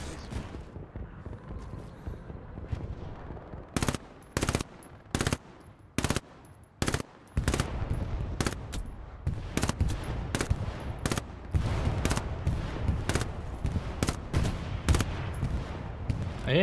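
Gunfire in the video game Hell Let Loose: a long run of loud, sharp shots with short bursts and single cracks at irregular intervals, over a lower, steady background rumble.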